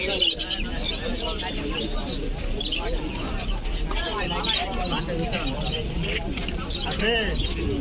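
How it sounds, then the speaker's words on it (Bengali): Many pigeons coo and flutter continuously amid a dense crowd babble at a large pigeon market in Mawna, with chirps and voices blending into a busy market din. "অনেক সুন্দর সুন্দর কবুতর আছে।"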